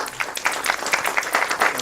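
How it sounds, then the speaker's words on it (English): Audience at a research seminar applauding, a dense steady patter of many hands clapping close by throughout. "Can we, for the last time, give Dr. Tawang another big round of applause?"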